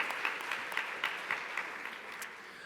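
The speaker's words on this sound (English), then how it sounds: "can we give ourselves a round of applause for being here and staying all weekend?" A crowd applauds continuously at moderate distance at a conference's closing plenary, dense clapping with occasional sharper claps, steady throughout before thinning slightly at the end.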